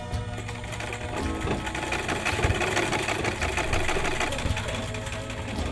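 A shared sewing machine in a village community hall in the Brazilian Amazon runs steadily, with a close, loud, continuous mechanical whir and rapid stitching rattle throughout, no voices.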